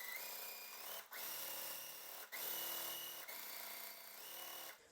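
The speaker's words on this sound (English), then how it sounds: "I'll go on ahead and sew this side over here" A sewing machine stitches a quilt block in steady whirring runs broken by short pauses, running close and fairly loud with no talk over it.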